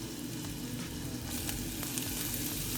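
Onion, garlic and mushroom sizzle steadily in a hot pan for poutine gravy, a close, continuous crackling fry with occasional sharper pops and no talking.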